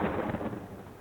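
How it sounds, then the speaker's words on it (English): Thunder from a brewing storm rumbles low and distant, a soft rolling boom that fades gradually over about a second. "Sounds like a storm's brewing"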